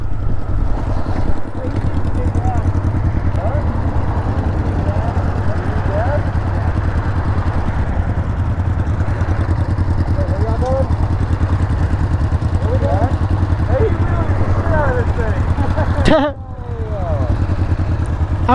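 A Honda Grom motorcycle cruising through town, its small engine droning steadily and close throughout under wind noise, with brief passing sounds and a voice speaking over the ride.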